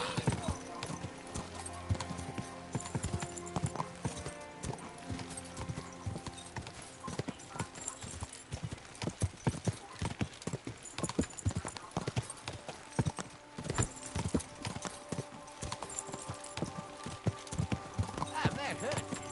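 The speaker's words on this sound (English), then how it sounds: "Easy, good horse." Horse hooves clip-clop in a steady stream of sharp, close hoofbeats in the video game Kingdom Come Deliverance 2, mixed with game ambience and a character's voice speaking now and then.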